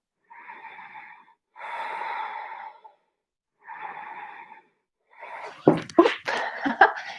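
Slow, deep breaths during a stretching session, three long inhale-exhale bursts of airy breath, then rougher, louder snorting exhales and rustling near the end, close and alone without talk.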